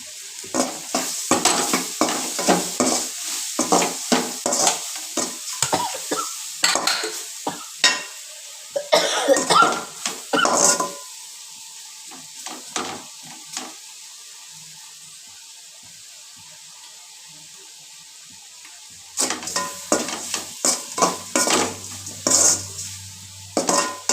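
Sesame oil poured into a pickle and stirred, a close series of scraping, clinking strokes of a spoon against the pot with a sizzle beneath, pausing midway, then resuming in quick bursts.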